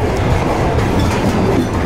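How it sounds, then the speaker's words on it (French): An old passenger train rolls along the rails in Patagonia, a continuous close rumble with rhythmic clickety-clack from the wheels, heard from inside a carriage with no speech. "C'est un vieux train en même temps."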